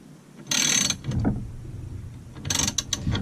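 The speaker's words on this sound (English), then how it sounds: "Now I'm going to start cranking this." Nut being cranked along a threaded rod on a bearing puller fitted to a Stihl MS440 chainsaw crankshaft, giving mechanical ratcheting and clicking in a few bursts, close by, with quieter grinding between them.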